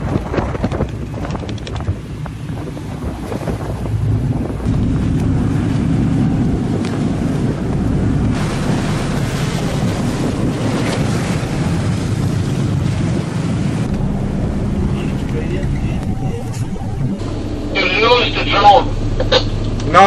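Strong gale wind roaring offshore around a pilot boat off La Coruña, with water rushing against the hull, loud and steady throughout, while people shout and talk over it.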